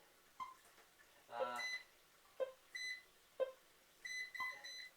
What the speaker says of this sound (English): I'm going to set just a regular timer here